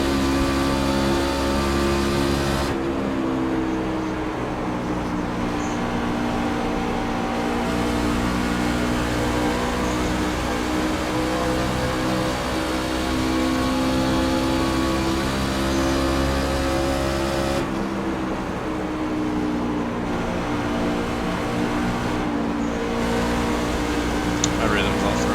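A race truck's engine drones steadily around Texas in an iRacing truck series event, a sustained, close, harmonic-rich hum that shifts in tone as the truck changes speed, with someone talking over it.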